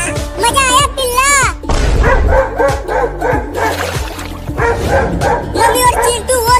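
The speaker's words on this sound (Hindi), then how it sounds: "वो दोनों कुत्ते उस बिल्ली को पकड़ने की कोशिश कर रहे हैं" Two dogs barking repeatedly and loudly while chasing a cat, mixed with yips and whimpers, close by, with cartoonish sound effects and voices overlapping.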